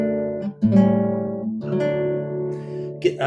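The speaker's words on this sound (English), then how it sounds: "A lot of guitarists, sometimes they overuse that arpeggio effect." Guitar chords spread out as arpeggios, each chord's notes rolled one after another and left to ring in a slow, exaggerated cadence, with no talking.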